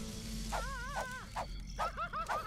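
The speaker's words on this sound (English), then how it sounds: "It's just a puppy." A puppy whimpers and yips in a cartoon, several short rising-and-falling whines in quick succession over a low background hum.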